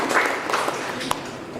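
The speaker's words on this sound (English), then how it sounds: "So I'd like you to give a round of applause to Aga to be starting with it." Conference audience applauding a speaker at a tech event, a steady wash of many hands clapping with a faint voice underneath.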